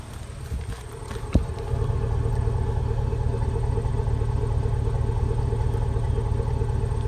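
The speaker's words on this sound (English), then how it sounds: "Let's listen to the muffler here." A 2002 Chevy Avalanche with a 5.3L engine idles, heard up close at the muffler as a steady low exhaust rumble after a brief knock near the start.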